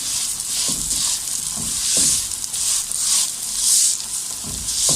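Vermicelli and two cardamom pods fry in hot ghee, a steady close sizzle with soft stirring scrapes pulsing through it, no voices.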